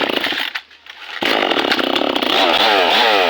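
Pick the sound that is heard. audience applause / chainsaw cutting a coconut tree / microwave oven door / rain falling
chainsaw cutting a coconut tree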